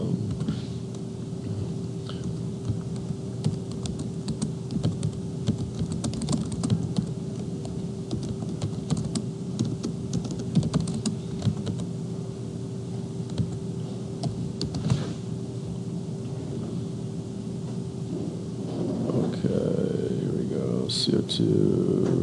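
Someone types on a computer keyboard during a lecture, running a Google search; soft, irregular key clicks continue under a steady hum and background speech.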